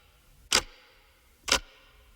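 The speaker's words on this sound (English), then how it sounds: "And some clock sounds." Two sharp clock-tick samples, about one second apart, sit in a music production arrangement as a percussive layer; each is a crisp, bright click with a short decay over a faint background.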